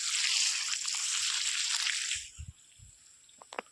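Water pouring onto a home lawn to flood it: a loud, steady rushing gush for about two seconds, which then drops away to scattered drips and small splashes.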